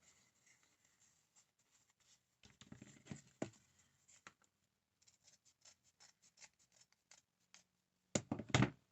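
Scissors snip and scratch through bed mattress material in quiet, irregular bursts close by, with small rustles and taps between cuts and a louder flurry of cutting at the end.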